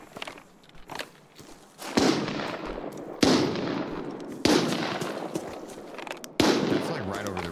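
Gunfire and bullet impacts in the video game Arena Breakout: Infinite: four sharp, loud reports land about a second apart, each trailing off into a rough rumble, with fainter clicks and scuffs between.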